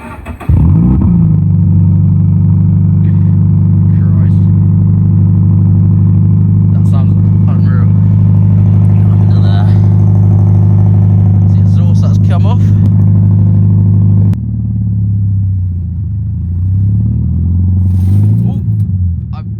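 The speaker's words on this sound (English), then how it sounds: "we have the exhaust off, so we're going to give it a nice start up" A Toyota GT86 with its exhaust removed cranks and fires into a loud, raw idle, a steady throaty drone that shifts to a rougher lower rumble near the end, with people talking faintly nearby.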